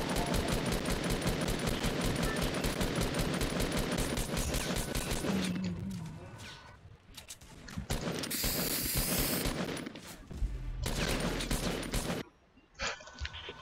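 Rapid automatic gunfire in the Fortnite battle royale game, a dense continuous burst for several seconds followed by scattered shorter volleys and breaks, loud and close with no talk over it.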